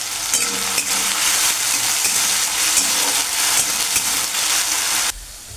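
Diced potato with a little salt sizzles steadily in hot oil until reddish, a dense, close crackling hiss with faint stirring clatter that holds for about five seconds, then cuts off abruptly; no one speaks.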